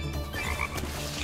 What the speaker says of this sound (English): Got all these frogs.